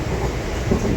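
Rumbling interior noise of a moving train, a steady low roar with faint rattling of the wheels on the track.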